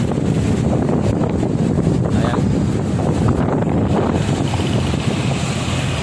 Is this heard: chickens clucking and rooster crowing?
no